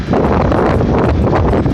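Strong wind buffets the microphone at the entrance to the Murray Canal aboard a boat, a loud, continuous roaring rumble with gusty rustling throughout.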